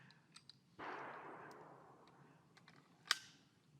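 A Sig Sauer P320 being handled: a sustained metallic scraping rasp as the slide is pulled back, then a sharp, loud click as the magazine seats, with a few small clicks around them, up close and with no one talking.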